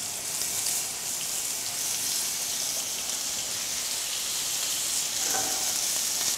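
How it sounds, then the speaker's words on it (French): Meat and rainette apples fry in butter in a pan, giving a steady, bright sizzle that hisses continuously for several seconds, with a slight stir or shift of the food near the end and no talking. "également nos pommes rainettes qu'on va juste faire revenir au beurre"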